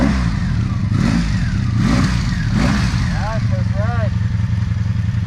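A Kawasaki Sabre motorcycle on its first ride, the engine revving in repeated surges over a steady low rumble while people talk nearby.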